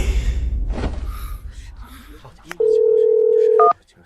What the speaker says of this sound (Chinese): 叶凡，你怎么有空给我打电话？